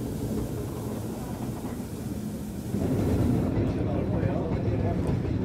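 A Swiss mountain steam train rumbles along with open windows, a steady low rolling drone that grows louder partway through, with voices talking over it.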